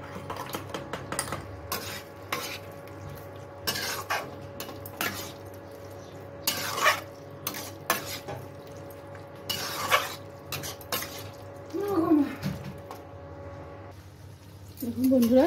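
Fried potatoes and okra stirred in a pan with a little water for masala okra: clattering utensil scrapes and knocks against the pan, irregular and fairly close, with a faint hiss and brief murmurs of voice.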